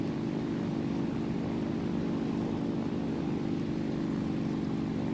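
Steady droning propeller engine of a bomber in a flight simulator game, throttled down to cruise power; a continuous, even hum with a low harmonic throb that holds level throughout, close and fairly loud, with no voices.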